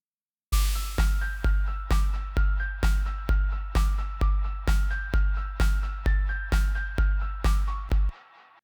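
Slowed synth arpeggio in steady eighth notes with a changed note shape, each plucked note decaying quickly in an even repeating rhythm, bright and alone, stopping abruptly near the end.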